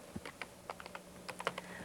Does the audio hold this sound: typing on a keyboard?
yes